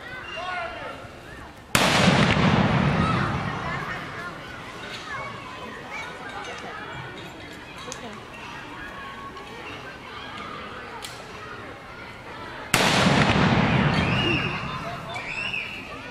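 A rifle volley salute fired at a Memorial Day parade in Lawrence Township: two sharp, loud outdoor volleys about eleven seconds apart, each ringing out over steady open-air background noise.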